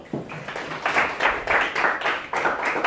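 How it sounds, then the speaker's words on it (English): Audience applause before a talk on artificial intelligence, a fairly close, uneven clapping with distinct individual claps that swell and fade in bursts over three seconds. "You deserve a round of applause right now."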